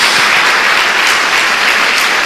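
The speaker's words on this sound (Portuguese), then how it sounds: "Dê mais uma salva de palmas ao Senhor." A congregation at a church service breaks into sustained, dense applause, loud and close, with many hands clapping continuously throughout.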